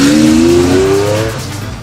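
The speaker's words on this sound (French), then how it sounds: "Capristo développe et construit des systèmes d'échappement sur mesure pour les voitures de sport telles que les Ferrari, les Lamborghini et les Maserati." A sports car fitted with a Capristo custom exhaust, the kind built for Ferrari, Lamborghini and Maserati, roars loudly close by with a rising engine note that eases off over about two seconds.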